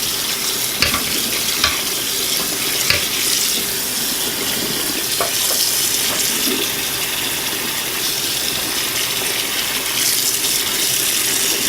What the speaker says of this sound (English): Just trying to rinse all the grease out of there.